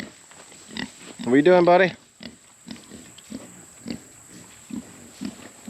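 A farm pig grunts and oinks close by in short repeated bursts, with one louder squealing snort early on, while someone talks to it.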